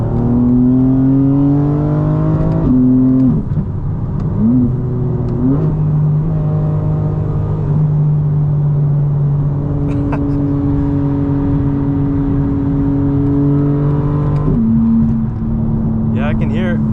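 A 2025 BMW M4 CS with an aftermarket exhaust droning steadily while driving, engine tone shifting through gear changes with a metallic edge, loud and continuous from inside the cabin.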